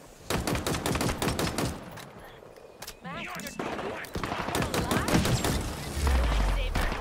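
Rapid, dense automatic gunfire from the shooter game Halo Infinite, loud and near, with sharp shots repeating through most of the stretch and voices talking over the firing.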